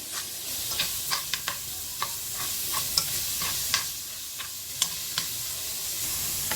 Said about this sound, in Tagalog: Tapos halu-haluin natin yan.